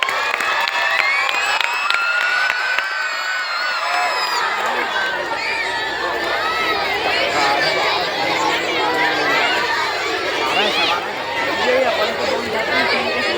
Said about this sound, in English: Give a big round of applause for our drama group.